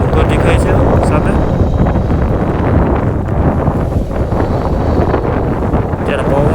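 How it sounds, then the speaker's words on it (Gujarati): Strong wind at sea buffets a fishing boat anchored near a coastal hill during a storm, a loud roaring rush with gusty rumble and microphone buffeting, steady throughout. "અત્યારે પવન બહુ લાગે છે"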